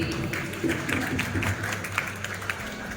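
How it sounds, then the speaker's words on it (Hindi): An audience at a large event in Ballia claps to welcome a guest, a steady wash of applause with scattered sharper hand claps over several seconds. "एक बार जोरदार तालियों से स्वागत कीजिए।"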